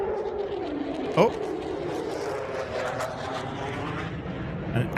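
A jet-engine car runs loud and steady with a broad roaring rumble, rising to sharper bursts near the start and at the end, while excited voices react over it.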